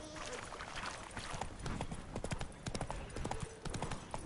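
Roach, Geralt's horse in The Witcher 3, gallops with a steady, quick clip-clop of hooves under light background game ambience, the hoofbeats close and continuous throughout.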